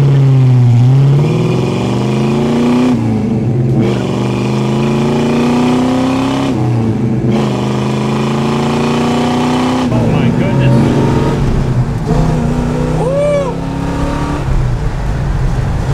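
A 1969 Plymouth Road Runner engine revs and accelerates hard, loud and close, climbing in pitch through several gear pulls with short pauses between them.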